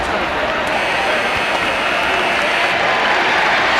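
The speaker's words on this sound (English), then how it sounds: "the applause is for Kenny Smith" Basketball arena crowd applauding Kenny Smith during a 1994 Houston versus Phoenix playoff game, a loud, steady wash of clapping and cheering that fills the space without a break.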